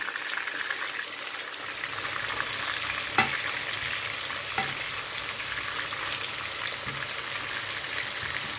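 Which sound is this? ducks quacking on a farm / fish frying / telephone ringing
fish frying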